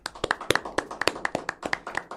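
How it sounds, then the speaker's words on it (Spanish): Light, sparse clapping from a small group welcomes a guest, a quick run of sharp individual claps, close and uneven, with no talking over it. "Con un fuerte aplauso recibimos a mi estimada Carla Galicia"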